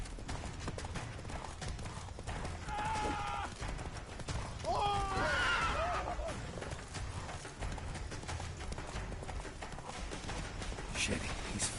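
Geralt's horse Roach gallops in The Witcher 3, a steady clip-clop of hooves with a couple of whinnies in the middle, mixed with game voices and background action.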